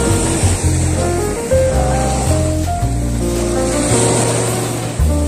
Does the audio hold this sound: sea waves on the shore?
yes